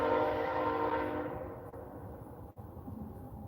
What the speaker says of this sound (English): yeah, train. That's what you hear.